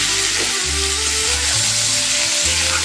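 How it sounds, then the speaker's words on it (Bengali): Young jackfruit frying in a pan for a jackfruit and prawn curry, giving a steady, close sizzle throughout with a low tonal hum running underneath and no talking. "ইঁচড়টা ফ্রাই করে নেব।"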